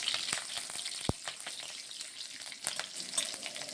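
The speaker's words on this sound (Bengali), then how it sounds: "কালো জিরাটা আর কাঁচা লঙ্কাটা একটু ভেজে নিচ্ছি।" Black cumin and green chilies frying in hot oil, a quiet crackling sizzle with a few sharp spatters and stirring sounds, close by, no voices.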